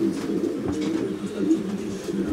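Pigeons cooing in a loft, soft low repeated coos overlapping in a steady murmur, close but fairly quiet, with faint bird movement around them.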